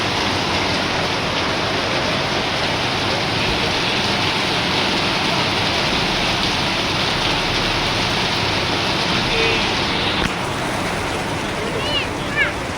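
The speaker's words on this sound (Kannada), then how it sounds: "ಸಖತ್ತಾಗಿ ಬರ್ತೈತೆ ಮಳೆ" Heavy rain pours down steadily and loudly, a dense, unbroken wash of drops on surfaces lasting throughout, with a slight change in texture near the end.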